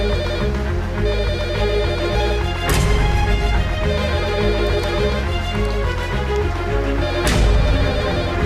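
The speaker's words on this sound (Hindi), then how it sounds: "उठाओ फोन जल्दी।" A telephone rings with a loud, repeating electronic melody, a sharp burst marking each new cycle of the ring.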